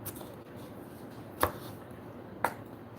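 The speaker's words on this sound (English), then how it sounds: "So I'm gonna cut it in halves. Everything. We're using all of the tomatoes." A knife slices through tomatoes, cutting them in halves for a quick tomato sauté, giving two sharp, isolated cuts about a second apart over a faint, steady room background.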